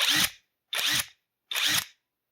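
An Alloyman mid torque brushless impact wrench runs in three short, even bursts of high whirring, each about a third of a second long and separated by silence, recorded up close.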